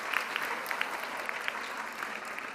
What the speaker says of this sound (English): this won't be the last time you hear a round of applause